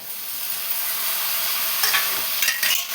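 Chopped tomatoes fry in a pan while being stirred, giving a steady close sizzle with scraping stir strokes and a few louder bursts near the end.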